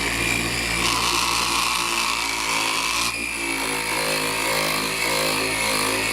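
A power buffing wheel running against a Ducati ST2 fairing, a loud continuous whirring drone with a brief brighter rise in pitch partway through, close by and steady throughout.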